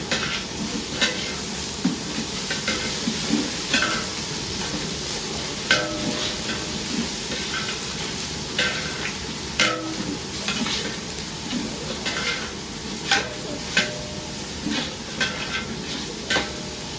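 A quarter kilo of ginger is stirred into a huge pot of frying bagara rice, a 7 kg batch, under a steady loud sizzle broken by repeated scraping stir strokes throughout.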